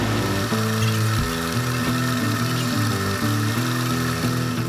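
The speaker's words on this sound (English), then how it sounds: "I'll get the hole started with the little 16th inch end mill bit." A small 1/16 inch end mill bit cuts a starter hole into a steel pommel nut for a Damascus Bowie knife. The motor gives a steady, close, droning whine with shifting tones and no voices.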